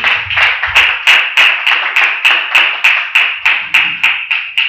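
A church congregation claps in steady unison at a brisk, even rhythm, each sharp clap ringing in the room, with a brief low voice at the start.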